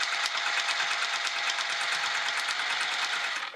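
A sewing machine runs steadily and fast, stitching through soft vinyl layers of a quilted witch hat with a Teflon foot and a 3.5 mm stitch length, its continuous whirring unbroken and close up.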